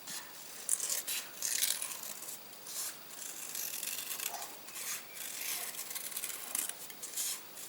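Scissors snipping and trimming material for a silver pin cushion Christmas tree, a run of close, soft crisp cuts and rustling repeated through the stretch.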